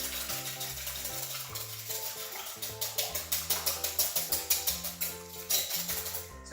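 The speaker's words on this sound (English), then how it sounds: "So I'm just gonna whisk those until I have a nice consistency" Two eggs beaten by hand with a whisk in a mixing bowl for corn muffin batter, a quick rhythmic clicking strokes pattern building in the second half beneath steady background music.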